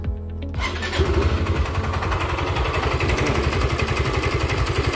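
A motorcycle engine, after an endurance race, cranks and starts, then settles into a steady, loud idle with a rapid pulsing rhythm close by.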